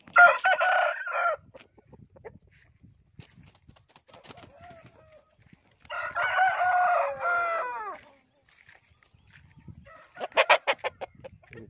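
A Kaki breed rooster crows three times up close and loud, each long call separated by quiet pauses with faint rustling. The last crow is choppier and more broken, and no one speaks.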